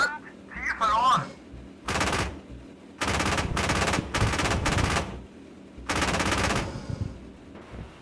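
Machine gun bursts from a Marder A1 infantry fighting vehicle, fired at enemy infantry in a combat video game: several loud, sustained rattling bursts with short pauses between them, plus brief voice chatter near the start.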